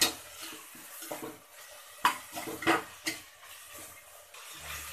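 Mutton is sautéed in a pan with onion and ginger garlic paste for a Kerala-style kulambu: a soft sizzle sits under repeated scrapes and knocks of a spoon against the pan, fairly close and quiet, with no voices.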